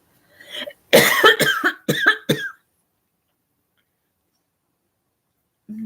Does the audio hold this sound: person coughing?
yes